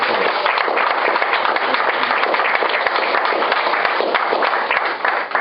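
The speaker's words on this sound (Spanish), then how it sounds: "pienso que se merece Dios un aplauso aquí con esto que estamos aquí" A congregation at a Sunday church class gives dense, continuous applause, many hands clapping steadily and close, with no speech over it, easing off slightly near the end.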